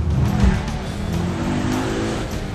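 A Ford Focus RS accelerating hard through a corner, engine roaring close and loud with a rising note, tyres working against the road, with a voice faintly under it.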